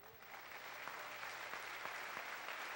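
A church congregation applauding for Jesus during an evening Feast of Tabernacles service, a dense, steady wash of clapping from many hands heard at a distance, even in level throughout with no clear speech.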